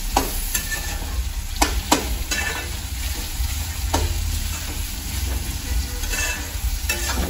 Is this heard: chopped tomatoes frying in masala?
yes